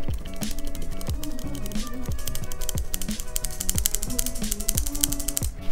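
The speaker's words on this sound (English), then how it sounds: "here goes our flour, our cornstarch, our cocoa powder, our salt, and we're just going to sift this" A hand-cranked sifter ratchets over flour, cornstarch, cocoa powder and salt in a bowl, giving a steady run of close clicking strokes with a few pauses, loud and alone.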